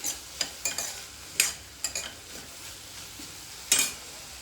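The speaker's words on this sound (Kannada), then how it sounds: "ನೋಡಿ ಈ ಥರ ಎಣ್ಣೆಲಿ ಫ್ರೈ ಮಾಡೋದ್ರಿಂದ ಒಂಚೂರು ಸ್ವಲ್ಪ ಬೇಯುತ್ತೆ, ತರಕಾರಿ ಎಲ್ಲ ಸ್ವಲ್ಪ ಬೇಯುತ್ತೆ" Vegetables fry in oil for oats, a quiet sizzle broken by scattered scraping and clinking stirring strokes against the pan, with no talking.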